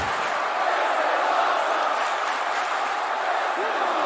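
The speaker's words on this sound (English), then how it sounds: "And this crowd is loving it in Miami." A steady, loud arena crowd roar in a WWE 2K wrestling game set at SummerSlam in Miami, continuous and dense throughout without breaks.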